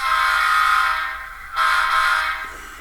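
Model train locomotive run by wireless app control, giving a steady electronic hum and buzz that swells, dips around the middle, then returns, with no voices.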